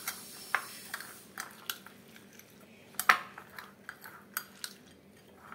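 A spoon scrapes and clicks against a bowl while washed arhar dal is mixed with mustard oil, giving scattered, irregular taps and wet squishes at close range with no talking.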